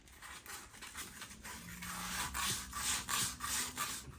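Steady hand sanding of small weed eater engine parts, a dry scratchy abrasion repeated in short strokes at close range, with no talking.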